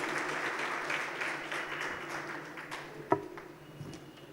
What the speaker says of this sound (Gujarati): તાળીઓના નાદથી વધાવીએ.